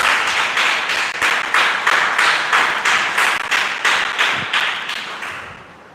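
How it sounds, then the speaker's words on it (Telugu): Audience members at a spiritual talk clap in unison for Kavitamma, loud, evenly spaced rhythmic claps repeating about twice per second before quickly dying away at the end. "కవితమ్మ చప్పట్లు."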